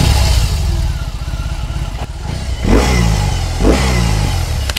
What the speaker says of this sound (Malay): Motor ni datang dengan enjin 1800cc.